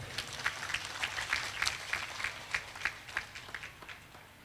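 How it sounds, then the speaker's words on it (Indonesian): Thin, scattered clapping from a small audience at a graduation ceremony, sparse individual claps in an uneven rhythm, faint and fading out after a few seconds. "Mana tepuk tangannya ini?"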